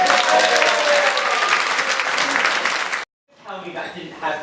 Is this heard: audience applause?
yes